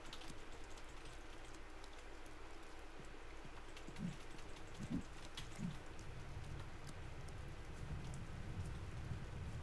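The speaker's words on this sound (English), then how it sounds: "I can hear a storm coming in." Storm rain in The Forest video game falls as a steady, fairly faint patter across the whole stretch, with a few soft thuds mixed in and no talking.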